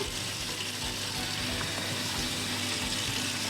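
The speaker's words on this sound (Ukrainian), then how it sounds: "І тепер заливаємо холодною водою повністю" Cold water pours steadily into a pot over corn cobs, a continuous close splashing hiss with no pauses, heard alone.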